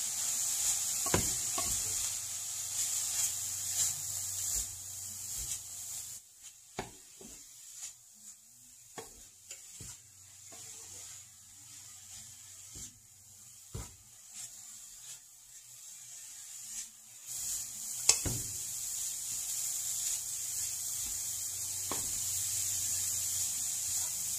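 Food in a pan for a keto meal prep is stirred with a spoon, giving scraping and rubbing strokes that come in irregular bursts, with brief pauses and a few sharper knocks.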